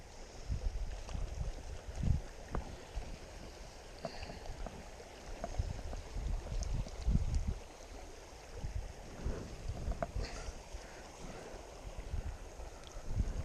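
A small brook flows steadily nearby, a soft broadband rush of water with occasional splashes and low gurgles, no voices over it.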